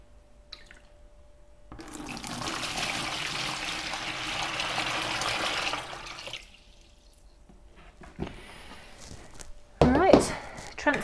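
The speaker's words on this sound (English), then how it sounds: "So what you want to do is transfer the water into a mixing bucket." Water pours into a mixing bucket in a steady rushing stream for several seconds, then stops; brief splashes and handling noises follow, with a short voice near the end.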